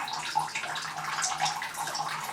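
Coolant water pouring from the cooling lines and water block of a water-cooled Slash 4x4 RC car during flow testing, a continuous nearby splashing stream with no voices over it.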